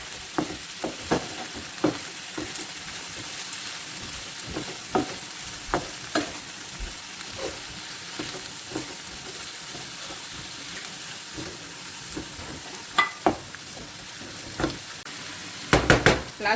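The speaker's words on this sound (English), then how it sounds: "I'm just adding in the yellow pepper, red pepper, and then the green pepper, and carefully mix everything together." Yellow, red and green peppers stirred together in a pan for coconut rice with mixed vegetables, a steady low sizzle under repeated clicking scrapes of the spoon, with a cluster of sharper clatters near the end.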